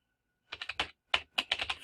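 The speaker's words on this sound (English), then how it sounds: "Please don't mock my typing skills." Someone typing on a computer keyboard, two quick clusters of clicky keystrokes separated by a brief pause, close and fairly quiet.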